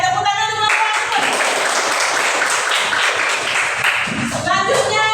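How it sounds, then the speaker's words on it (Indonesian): A classroom full of students applauds their classmates during a primary science lesson, with dense, steady clapping lasting several seconds. A voice speaks briefly before and after the applause. "Tepuk tangan untuk teman-teman."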